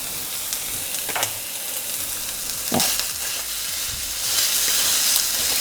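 Sausage fries in a pan and is stirred and broken apart for biscuits and gravy, giving a steady loud sizzle with a few sharp scraping strokes, and no talk.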